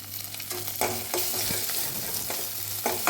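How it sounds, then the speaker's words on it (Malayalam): Garlic and shallots sizzle in a pan for a thoran, a steady soft crackle of frying broken by several sharp scrapes and clinks as a utensil stirs them. "ഈ വെളുത്തുള്ളിയും അതുപോലെ ചുവന്നുള്ളിയും ഒക്കെ ഒന്ന് മൂത്ത് വരണം."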